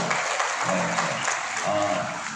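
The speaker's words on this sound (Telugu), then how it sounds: "ఒకసారి అందరూ కూడా చప్పట్లు కొడదాం." Guests at a church wedding ceremony clap together in a brief burst of steady applause, with voices talking over it.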